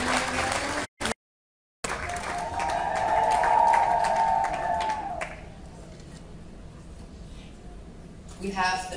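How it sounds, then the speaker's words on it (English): Ship christening crowd honoring Sophia Loren aboard MSC Grandiosa: a sustained wash of audience applause and cheering that swells, peaks, then thins out, with talking over it and a brief dropout near the start. "A big applause."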